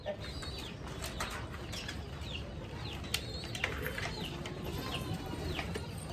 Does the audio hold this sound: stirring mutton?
no